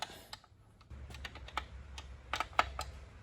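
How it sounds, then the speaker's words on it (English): Wrench clicks and metallic taps while loosening the chain adjuster jam nut on a KTM 690 Enduro R, a series of sharp, close, irregular ticks over a low background hum. "So loosen up this jam nut."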